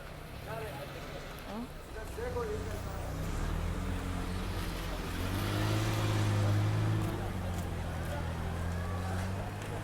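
Busy street traffic in the narrow Nathia Gali bazaar in Pakistan, with car engines idling and pulling away nearby, one swelling louder midway, while someone talks over the traffic throughout.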